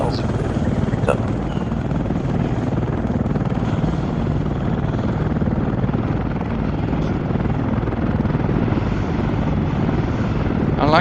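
A helicopter flies in the Arma 3 military game with a loud, continuous rotor thump and engine drone, a voice talking over it.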